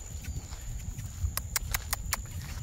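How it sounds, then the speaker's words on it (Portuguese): A horse moves about while grazing in a rural pasture, with a few soft hoof clops and rustles standing out against a low, steady outdoor background. "Olha aqui esse cavalo lindo."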